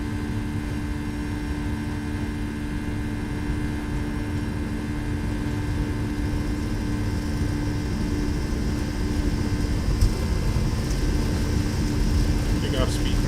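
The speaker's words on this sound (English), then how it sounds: "Takeoff power set." Steady engine roar of a FedEx cargo Boeing 757 at takeoff power in X-Plane 11, a sustained drone with a droning tonal hum, while a voice talks over it.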